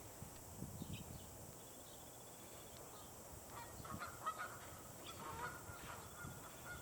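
Geese honk intermittently at a distance on the open ice of Beaumaris Lake in Edmonton, soft scattered calls over a quiet, faintly hissing outdoor background.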